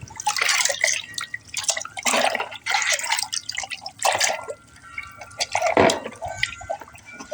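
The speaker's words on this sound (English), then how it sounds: "I'm going to soak this in prepared cold water. Just wiggle my fingers around in there a little bit." Fingers wiggling and splashing in a basin of cold water, used to soak solar lights for cleaning: close, uneven bursts of sloshing and dripping with short pauses between movements.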